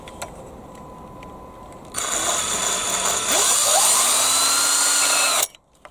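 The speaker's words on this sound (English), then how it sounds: "I'm going to drill a couple of holes and use cable tie." A power drill starts up loudly and runs steadily, drilling holes in a Bruder MB Sprinter RC model, its whine rising in pitch as it bores through, then cuts off abruptly.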